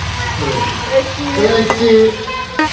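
Vegetables sautéed with spices in a pan give a steady, loud sizzle up close, broken by the scrape and clatter of stirring.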